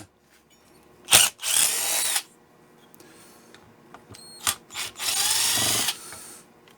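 A power screwdriver backs screws out of an air conditioner unit during circuit board repair, two short whirring bursts with a brief buzz and clicks between them, close and fairly quiet with no talking.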